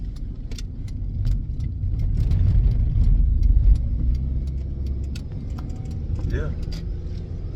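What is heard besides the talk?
1998 Honda car engine shifting between third and fourth gear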